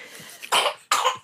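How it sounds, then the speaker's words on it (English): A person coughs twice in quick succession, two short, sharp, close bursts in an otherwise quiet moment. "Just had a bit of a cough."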